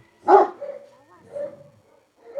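A large eight-month-old forest dog barks once, deep and loud and close by, then gives a couple of softer, lower follow-up woofs.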